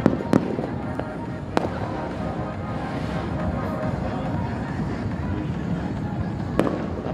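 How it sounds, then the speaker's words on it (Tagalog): Skyrockets (kuwitis) pop at a New Year celebration in the Philippines, with a few sharp distant bangs over a steady roar of wind and ambient noise. "Baba lang pala ng putok ng mga lipad ng kuwitis."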